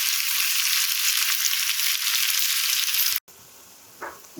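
Okra frying with garlic and cumin masala over a medium gas flame, a loud, steady close sizzle that cuts off abruptly, followed by quieter room sound and a brief clink.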